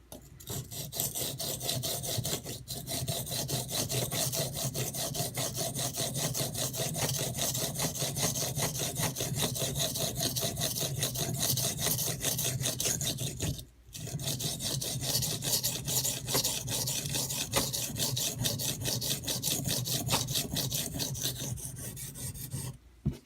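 A Rat 1 D2 knife blade is sharpened with continuous back-and-forth rasping strokes, a close, steady scraping rhythm that pauses briefly midway and then resumes.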